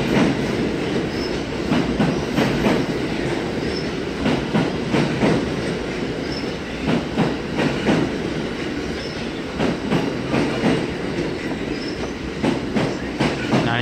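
NYC subway train rolling through 49 St station on the BMT Broadway line, a steady loud rumble with rhythmic wheel clatter and faint squeal as the cars pass close by.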